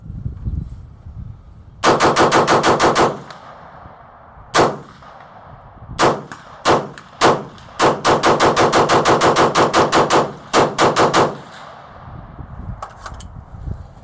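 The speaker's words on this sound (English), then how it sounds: "see if it still holds zero after we do a mag dump" A rifle fires SS109 green-tip rounds in a magazine dump: loud, sharp shots come in fast strings and short bursts separated by brief pauses, ringing out over a quiet outdoor background.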